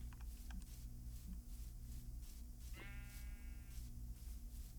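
Sheep bleating in Minecraft, a single short wavering bleat in a quiet game scene over a steady low background hum and soft ambient noise.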